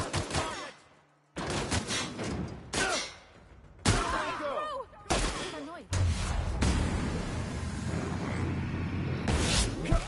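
Bursts of video game gunfire, with rapid volleys and sharp shots, come in loud clusters separated by short pauses. Talk runs alongside some of the shooting.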